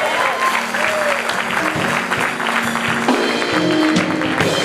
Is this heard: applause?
yes